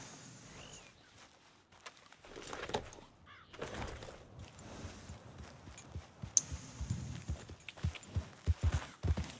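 Horse hooves walking in the Red Dead Redemption 2 video game, a steady clip-clop of footfalls that grows louder and more frequent toward the end, with faint ambient birds and jangling tack.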